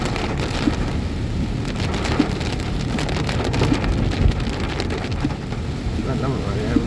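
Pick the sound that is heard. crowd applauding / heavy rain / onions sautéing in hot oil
heavy rain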